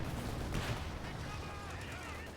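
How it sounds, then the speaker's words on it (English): Incoming mortar shots in a World War II real-time strategy game: dull thuds and muffled blasts mixed into continuous battle noise and gunfire, with commentary voices running over them. "There are another 2 shots coming in."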